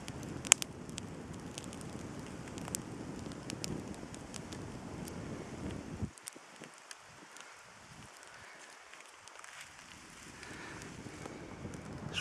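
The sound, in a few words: wind blowing at an outdoor campfire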